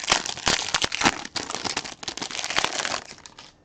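Clear plastic-wrapped trading card packs being shuffled during a live pack-breaking session, a close series of rapid crinkling and rustling bursts.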